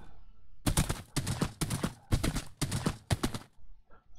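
Horse hooves galloping in a video game, heard as a run of about six quick rhythmic clusters of thudding steps. Each burst is fairly loud and close, with brief gaps between them and no talking.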